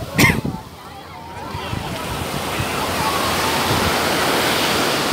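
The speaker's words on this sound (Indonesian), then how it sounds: "Ini ombaknya sangat besar ya." Large ocean waves crash and wash onto a crowded beach, a steady broad roar building louder over several seconds after a brief knock at the start, with faint voices in the background.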